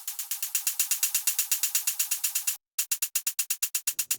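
A hi-hat sample pitched up and shortened into a bright, snappy tick, repeating in a fast, even sixteenth-note stream, with a brief gap before the pattern resumes, loud and alone.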